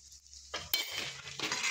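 Masala being stirred in a cooking pot, a short burst of metal spoon scraping and clinking against the pan amid a faint sizzle, fairly close and alone with no voices.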